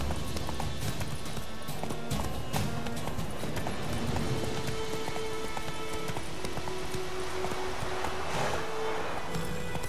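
Hooves of Roach, Geralt's horse in The Witcher 3, beat in a fast steady galloping clip-clop under continuous game ambience, with a brief low voice murmur.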